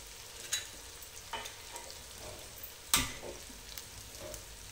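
Quiet, soft sizzling of spices roasting in a pan, punctuated by several sharp scrapes and clinks of a spoon stirring, one louder scrape midway, with no talk.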